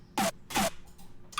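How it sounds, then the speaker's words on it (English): Distorted snare drum in an electronic music production, three sharp crunchy hits in quick succession with a softer echo between, loud and dry. "we added a snare and distorted that snare, and that sounds like this."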